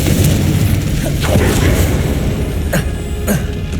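Confringo fire spell explosions in the video game Hogwarts Legacy, loud dense booming and crackling blasts with several sharp bursts over a rumbling battle din.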